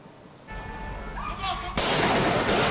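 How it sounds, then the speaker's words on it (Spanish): Gunfire from hooded gunmen who left a black Citroën to shoot at a pursuing police officer in Paris, heard as loud sharp reports with a sudden louder burst near the end, over street background noise. "Los encapuchados se bajan del citroen negro en el que huían y la emprenden a tiros con uno de los policías que les persigue"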